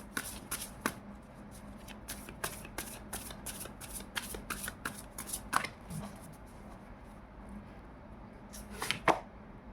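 A deck of tarot cards is shuffled steadily, giving a crisp, close, rhythmic riffle of repeated card flicks with a few sharper snaps near the end.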